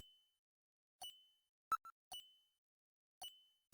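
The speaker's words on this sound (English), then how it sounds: "yeah, there's like a bleepy sound there" Electronic bleeps from the Snatcher video game, a handful of short separate tones spaced about a second apart in near silence, faint and clean.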